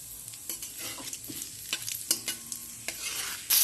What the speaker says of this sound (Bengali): দিয়ে দিচ্ছি শুকনো লঙ্কা, এলাচ, তেজপাতা।